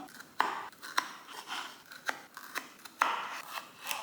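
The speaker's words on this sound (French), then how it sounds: "Du coup, on va couper les tomates en deux." Cherry tomatoes being cut in half in a kitchen, heard as a close series of crisp cuts and light clicks in an uneven rhythm, with sharper snaps now and then.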